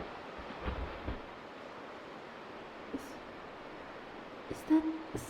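Ocean surf washes in a steady, soft roar with wind noise on the microphone, broken by a few faint bumps and brief sounds, with no talk.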